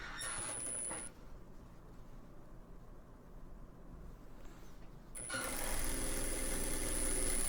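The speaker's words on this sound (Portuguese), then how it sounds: "direciono direito com direito e vou costurar." A sewing machine stitches patchwork pieces, a steady close mechanical whir that eases to a softer run in the middle before speeding up loud again, with no talk.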